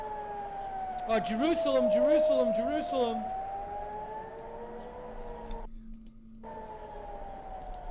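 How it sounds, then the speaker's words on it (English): Air raid alert sirens sound across Jerusalem, a long wailing tone that slowly rises and falls, heard at a distance beneath someone talking over it. "We're hearing the Jerusalem alerts right now. That's where you're hearing the siren from."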